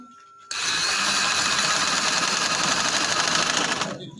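A sewing machine runs steadily for about three and a half seconds, stitching along the edge of fabric for a full-sleeve garment, a loud, fast, even whirring that starts abruptly and stops near the end.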